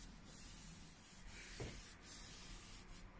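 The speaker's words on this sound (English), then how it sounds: "so I'm hitting it with the sandpaper again" Sandpaper rubbed by hand along a hickory axe handle, soft steady raspy strokes with brief pauses between them, close and quiet with no talk.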